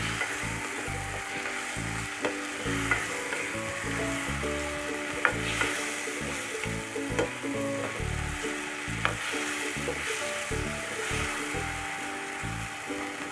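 Mashed smoked eggplant being fried and mixed into onion and spice masala, a steady loud sizzle running throughout with the scrape and clatter of stirring, close up and without speech.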